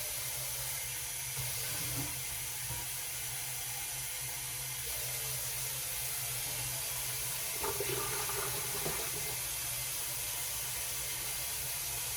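Tap water runs steadily from a faucet to fill a coffee maker's reservoir, a quiet, continuous hiss and trickle with a brief splashier patch near the end.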